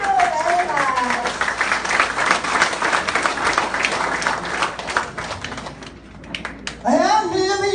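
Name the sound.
audience applause for a speaker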